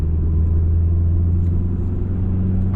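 A project car's engine runs steadily while driving, a loud, continuous low rumble with a constant drone and no pauses, heard alone with no voices.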